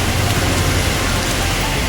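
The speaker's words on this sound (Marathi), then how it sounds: "इकडे पावसाचा पाऊस बघा खूप पडतोय" Heavy rain pours down in Thane West, a dense, loud, unbroken wash of drops hitting surfaces up close, with no pauses.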